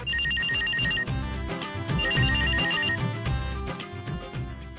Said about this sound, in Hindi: तुम उठाओ फोन